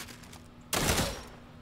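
A single loud burst of gunfire in the video game Fortnite, sharp onset and decaying tail, close and alone after a quiet moment.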